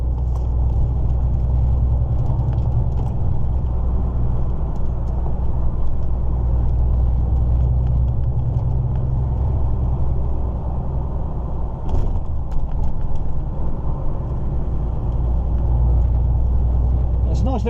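A car cruises along a quiet road off the motorway, its low engine rumble and tyre roar steady and close inside the cabin, with occasional bumps and faint talk.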